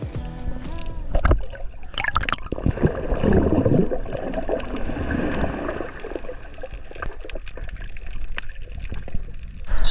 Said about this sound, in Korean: 파도가 적당히 치니까 산호에 부서지는 파도